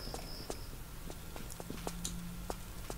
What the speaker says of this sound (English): I hear footsteps already.